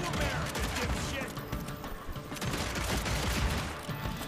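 Rapid revolver fanning in the video game Evil West: a dense, continuous barrage of loud overlapping shots and impacts across the whole stretch, with game noise mixed in.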